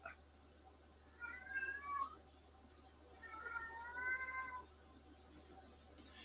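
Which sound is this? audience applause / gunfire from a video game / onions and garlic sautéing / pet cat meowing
pet cat meowing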